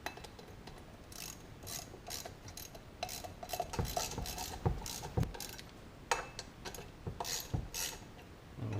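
A ratchet wrench clicks in quick bursts while tightening bolts in sequence on a PM727 milling machine, sharp close metallic ratcheting with pauses and small tool clanks between strokes.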